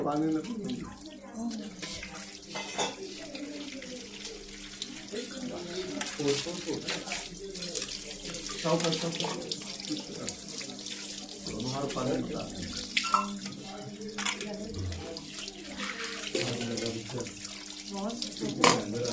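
Water poured over a Shiva idol during a Mahashivratri Rudrabhishek ritual, a steady nearby splashing stream with intermittent drips and clinks, under people talking throughout.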